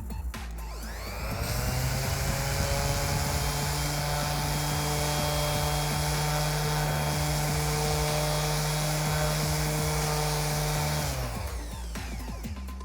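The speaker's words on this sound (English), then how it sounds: "So just turn the sander on and gently, with good pressure, and hold it onto the piece" An electric sander runs against a wooden piece in a woodworking session, a steady loud whirring drone that starts up, holds evenly for about ten seconds, then winds down, with no talking over it.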